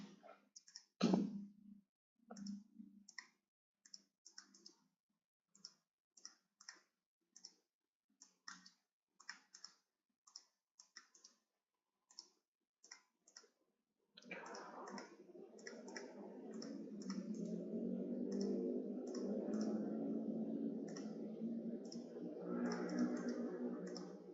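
Computer mouse clicking during spreadsheet work: a long string of sharp, isolated clicks in irregular bursts, close and fairly quiet, followed by a steady broadband hum of background noise that fills the second half.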